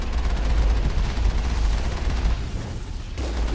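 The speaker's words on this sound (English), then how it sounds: "we are shooting downhill from here" Sustained, loud, dense gunfire roars without a break through a Mass Effect battle against the Geth, fired downhill and easing off only slightly near the end.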